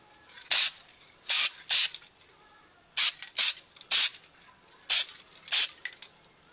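Short hissing bursts of spray paint laid down in light coats over a stencil on a glass radio dial, about nine quick puffs in small groups with quiet gaps between.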